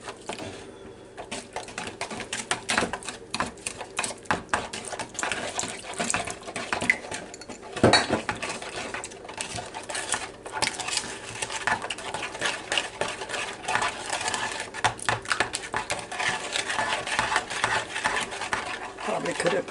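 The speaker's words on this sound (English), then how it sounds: "Now I'm going to go ahead and mix this in with my pudding." Vanilla pudding mix is stirred with orange juice in a bowl for a fruit salad, a dense, continuous clicking and rattling of utensil against bowl that goes on steadily up close.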